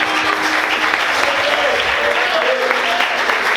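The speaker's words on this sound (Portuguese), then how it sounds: "Você pode aplaudir a Deus por isso?" A church congregation bursts into steady, loud applause, dense clapping from many hands filling the room, with a voice faintly carried over it.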